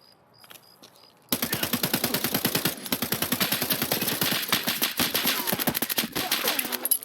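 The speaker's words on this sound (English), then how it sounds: "Your armor is not going to stop big rounds from big guns." Heavy automatic gunfire from a big gun in the video game Escape from Tarkov, a loud sustained burst of rapid shots starting after a brief quiet moment and continuing to the end.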